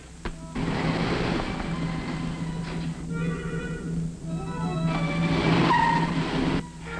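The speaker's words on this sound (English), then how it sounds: "I just saw your car drive off" A car engine runs loudly and pulls away over about seven seconds, with a steady rumbling drone, a brief scrape like skidding tyres, and no talking.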